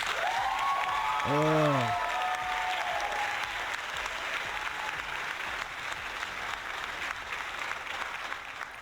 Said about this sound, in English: So here's that applause.